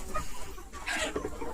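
Sonali desi hens, about four months old, clucking on a poultry farm: a few close, short clucks and murmurs in a steady stream, with no talking.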